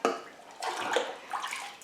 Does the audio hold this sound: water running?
yes